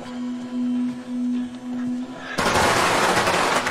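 A sudden burst of loud crackling firecracker pops fills the second half, following a steady tonal hum with faint background noise.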